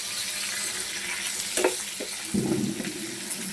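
Dry red chillies, garlic and cumin seeds frying in oil in a pan for curry leaf chutney, a steady close sizzle with a few stirring scrapes toward the end and no voices.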